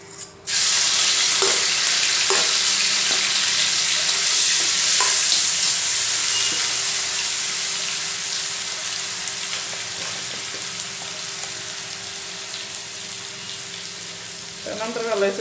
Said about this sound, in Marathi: आधी आपण घालून हिरव्या मिरचीचा ठेचा, तेल थोडं प्रमाणातच घाला,